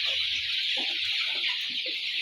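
Forty-day-old brown cockerels cluck in short, low, scattered calls beneath a loud, steady high-pitched hiss of a farm shed, with several birds sounding close together.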